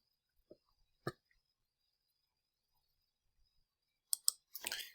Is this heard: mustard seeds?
no